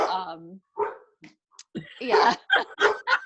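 A dog barks and whimpers indoors in a short series of close, loud yips and barks, the bursts coming in quick succession near the end.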